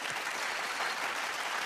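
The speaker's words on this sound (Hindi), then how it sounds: "मैं चाहता हूं कि जगजीत जी के लिए जोरदार तालियां हो जाएं एक बार।" Audience at a Bollywood awards show breaking into steady, dense applause, a continuous wash of clapping from a large crowd with no voices over it.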